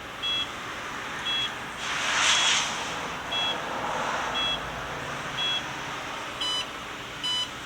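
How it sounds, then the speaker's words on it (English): Short electronic beeps from a Promatic receiver booting up repeat at a steady pace, each brief and clear over low background noise, with a fuller rushing sound swelling briefly partway through. "Let it beep 9 times."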